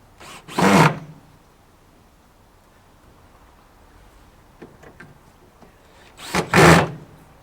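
A power screwdriver driving screws through plywood into formwork brackets for a sheet pile capping beam, two short loud whirring bursts separated by several seconds of quiet handling noise.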